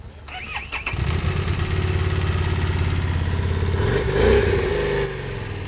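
A motorcycle engine is started with the electric start button, cranking briefly before catching and settling into a steady, loud idle close by, with a rise in revs near the end.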